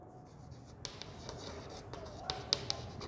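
Pen or marker writing out an accounting sole trader final account, soft scratchy strokes and light taps close by, quiet and continuous.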